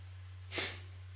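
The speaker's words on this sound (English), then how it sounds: "Look at rapid, sharp exhales through the nose." One sharp, forceful exhale through the nose during a breathing exercise, a brief breathy burst over a steady low mains hum.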